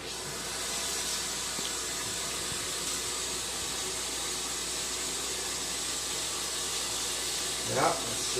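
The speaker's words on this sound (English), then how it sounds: "And I want to give this a rinse off with clean water." Clean tap water running while rinsing out a Desert Spring humidifier, a steady soft splashing hiss with a brief louder gurgle near the end.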